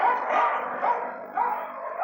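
Dogs at Battersea Dogs Home in London bark and growl in a steady, reverberant din, the overlapping voices of many kennelled animals blurring together with no pauses over the short stretch.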